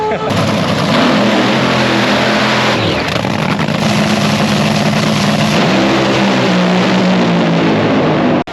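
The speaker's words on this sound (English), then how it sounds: "just ran a 406 in the dragster, which is a solid run" Dragster making a drag racing run at a racing event, a loud sustained engine roar that fills the whole stretch, steady and close, with a low rumble and crackle throughout.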